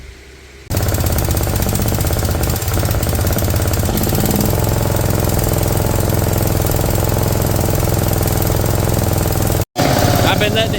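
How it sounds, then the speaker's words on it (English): A Briggs & Stratton Intek V-twin engine, fitted in place of a blown Kohler Courage, runs loud and close with a rough, knocking idle and repeated sharp backfire pops. "I've been letting it sit here and run for about 3 minutes, and it keeps running. It just keeps backfiring too."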